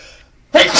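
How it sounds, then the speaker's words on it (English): A single loud sneeze bursts out close after a moment of near silence, sharp and breathy. "I'm gonna have a sneezing fit"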